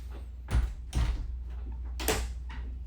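The bathroom door of a new Voltage 4145 toy hauler RV is opened and closed, giving several distinct thuds and latch clicks spaced across a few seconds in a quiet interior.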